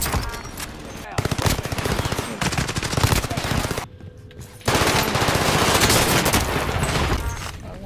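Rapid SMG fire in a Call of Duty game, loud continuous automatic bursts with a brief pause before another sustained volley, close and dense, with some voices mixed in.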